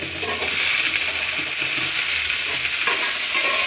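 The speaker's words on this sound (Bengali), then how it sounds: "এবার আমি বেগুনগুলো দিয়ে দেবো, একটু ভেজে নেব আলু আর বেগুনগুলো।" Potatoes and eggplant frying in hot oil in a wok, a steady close sizzle with stirring scrapes throughout, no voices.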